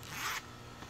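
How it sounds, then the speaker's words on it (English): A zipper on the small carrying pouch of a HoldPeak 866B digital anemometer is drawn open in one quick, close, fairly quiet pull, followed by faint handling noise. "The zipper."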